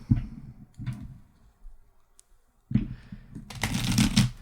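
Playing cards being shuffled in several bursts of quick riffling, close and crisp, separated by short pauses, with a longer final shuffle at the end.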